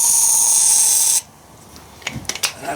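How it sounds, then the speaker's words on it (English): Cleaner sprays into a chainsaw cylinder in one steady, loud hiss lasting about a second, then cuts off, followed by a few soft clicks and rustles close by. "I'm just going to spray just a little bit of this down here"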